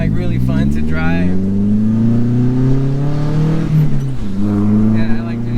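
A 1972 Datsun 510 driving, its engine note climbing steadily through the gears, easing briefly, then rising again, loud and close from inside the car with a voice speaking over it.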